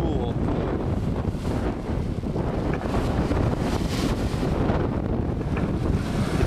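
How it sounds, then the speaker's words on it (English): Strong gale-force wind roars steadily across a sailboat at sea in the Gulf Stream, with whitecapped waves and water rushing around the hull, loud and continuous throughout with buffeting on the microphone. "still very windy. We've had a gale just about the whole time."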